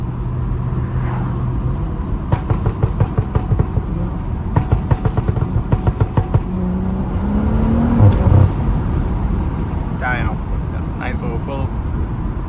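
A tuned BMW F30 accelerates hard, its engine note rising through the gears with rapid crackling pops and bursts. A steady road roar runs underneath, and a brief voice cuts in near the end.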